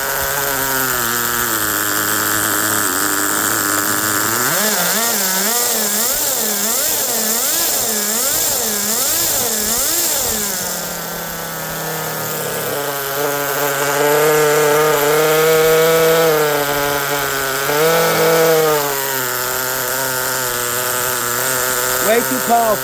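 A Colt nitro 10 model engine runs loud and close with a buzzing, high-revving whine, its pitch repeatedly swinging up and down as the throttle is blipped, then settling into a steadier scream.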